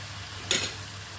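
Mutton frying in a pan with turmeric, red chilli and coriander powder for a korma, a steady low sizzle with one brief louder burst of stirring midway.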